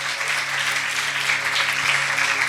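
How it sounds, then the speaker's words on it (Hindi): A church congregation applauds loudly during a Hindi-Urdu sermon, with a continuous wash of clapping and a low musical hum underneath. "आए पाक रूह के लिए जोरदार तालियां बजाएं"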